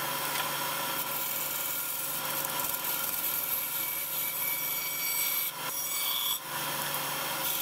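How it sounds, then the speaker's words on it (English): A bandsaw trims a walnut piece into a circular shape, giving a steady, close rasping cut with a constant motor hum beneath and two brief dips as the blade eases off. "I bring it over to the bandsaw again and trimmed it down to a circular shape"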